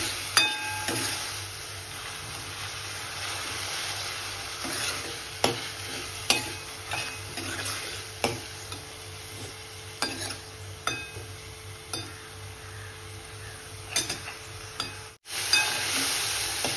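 Onion and tomato masala sautés in oil for a prawn curry, a constant sizzle punctuated by regular spatula scrapes and knocks on the pan, close-up and steady, no voices.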